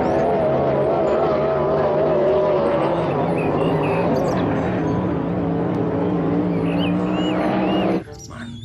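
A toy speedboat's motor drones loud and close in a steady high buzzing whine that holds for several seconds before cutting off abruptly near the end.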